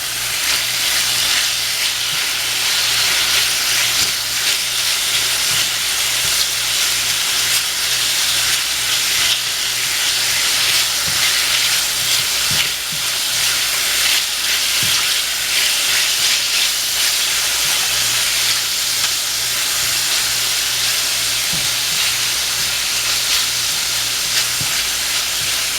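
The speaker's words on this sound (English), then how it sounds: "my chicken's been cooking for a couple of minutes. Get it flipped over onto the other side." Chicken pieces frying in a hot pan, a loud continuous sizzle and hiss with occasional soft clicks of movement, close up and without speech.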